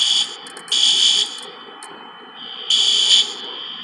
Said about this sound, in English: and the fire alarm goes off.